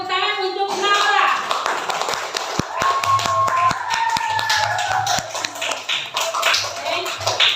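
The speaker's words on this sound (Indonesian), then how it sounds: "kita beri tepuk tangan untuk Laura" A classroom of children claps for a student, a short burst of scattered hand claps and taps mixed with young voices talking.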